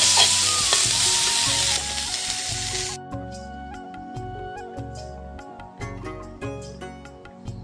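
Dheki shak greens fry in a pan with a loud, dense sizzle that drops off after a few seconds, leaving quieter crackling and stirring noises with a steady hum underneath.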